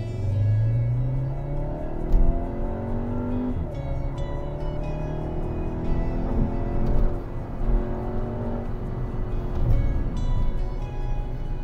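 A 2022 Skoda Octavia Combi RS accelerating hard from inside the cabin, its engine note climbing through the gears with rising harmonics and brief dips at each shift, a steady loud rumble with no talk.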